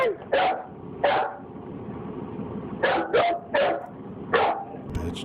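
A dog barks sharply again and again, in single barks and quick clusters of two or three, loud and close over a steady background rumble.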